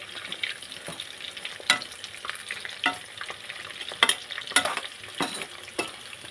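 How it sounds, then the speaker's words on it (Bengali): Chicken pakoras frying in hot oil, a steady crackling sizzle with scattered sharper pops and occasional stirring scrapes, close and moderately loud, with no talking. "আরও একটু লাল করে ভেজে নেবো। আর এটা কিন্তু খুব মুচমুচে হবে।"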